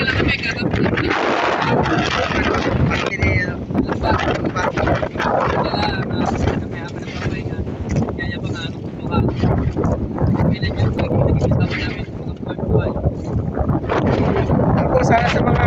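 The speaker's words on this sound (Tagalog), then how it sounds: "Medyo malakas ang hangin." Strong wind buffets the microphone continuously, a dense roaring rush with gusty surges throughout, heard during a rest break while bailing water from a boat.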